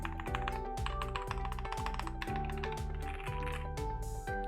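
Steady, fast typing on a Tiger 80 KBDFans TKL mechanical keyboard, with a dense run of close, crisp keystrokes and clacks in an even rhythm and no talking.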